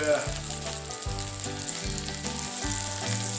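Twenty-two meatballs fry in a pan with a loud, continuous sizzle up close, accompanied by a low, stepped tonal hum underneath.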